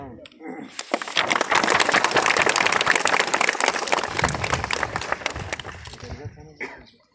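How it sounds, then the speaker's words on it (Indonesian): Loud, dense applause from a crowd, sustained for several seconds before tapering off. "Pakai tepuk tangan."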